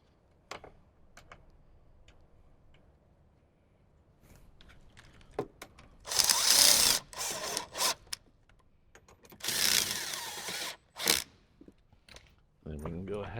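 Bolts mounting a Kicker speaker in a 2007–2014 Jeep JK Wrangler are driven in with two loud bursts of whirring power-driver noise, surrounded by small ticks, taps and handling sounds while a person talks.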